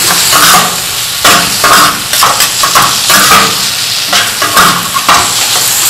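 Butter dropped into a hot pan for egg katakat gives a loud, steady frying sizzle with hissing bursts and the scrape of stirring, close and continuous with no talk.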